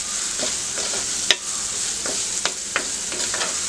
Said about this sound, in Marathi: कांदा फ्राय करून घेऊया व्यवस्थित।